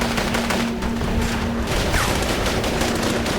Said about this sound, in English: But Al-Qaeda fighters continue to return fire.